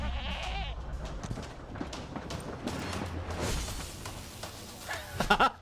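A goat in the farming game My Time at Sandrock bleats in short bursts over background game sounds, with a louder cluster of bleats near the end.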